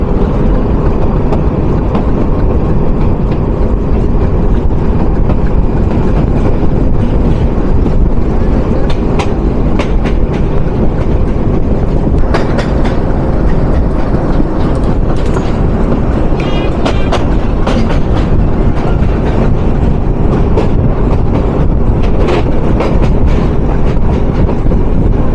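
A train running on the elevated express railway at Narayanganj, a loud, sustained rumble with rhythmic clacking of wheels over rail joints, close and continuous throughout.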